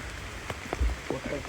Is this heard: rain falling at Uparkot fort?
yes